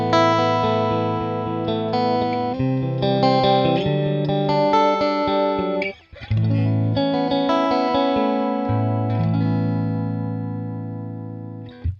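Electric guitar through a modeled Princeton amp with a clean tone plays sustained chords and notes, pausing briefly midway before ringing on, warm and slightly driven with reverb.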